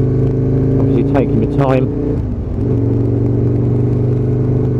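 Aprilia RSV1000 Mille motorcycle engine droning steadily beneath a rider's voice, with a couple of quick rising throttle blips in the middle before it settles back to a constant loud hum.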